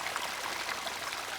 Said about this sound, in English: you hear the noise, the waterfall